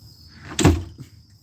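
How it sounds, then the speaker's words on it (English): A door is shut indoors with a single solid thud, a brief close impact that rises out of a quiet room and fades quickly. "Close the door."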